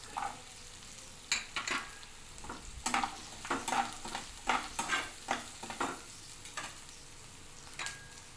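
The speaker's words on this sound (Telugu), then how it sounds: "ఉల్లిపాయలు ఉడకనివ్వాలి. అల్లం వెల్లిపాయ పేస్ట్ కొంచెం ఉడకనివ్వాలి" Onions cook with ginger-garlic paste in a pan, a low sizzle punctuated by a run of quick spatula scrapes and taps clustered in the middle.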